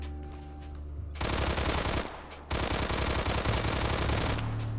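Rapid automatic gunfire from a UMP submachine gun in the shooter game Phantom Forces, loud sustained bursts with a brief pause midway, then firing resumes to the end.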